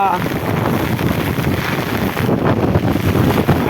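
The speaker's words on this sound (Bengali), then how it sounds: "हवा भी बहुत तेज दे रहा है।" Strong wind blows hard during rain, a loud, close, continuous roar and buffeting that keeps up without a break.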